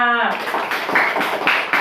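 Third-grade schoolchildren in an Indonesian classroom clapping for a classmate, a tone fading at the start giving way to loose, uneven rhythmic claps with several sharper bursts, close and fairly loud, voices mingling.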